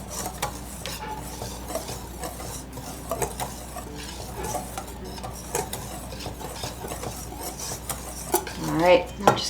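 A spoon or whisk stirs dry and wet ingredients for an apple pumpkin quick bread in a bowl, making continuous soft scraping and occasional clinks against the side. It is close and alone, with no talk.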